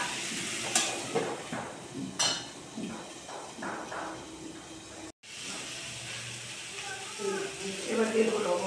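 Potatoes and chopped vegetables dropped into a hot pan of oil, a steady close sizzle and hiss with occasional stirring clatter, a voice talking over it.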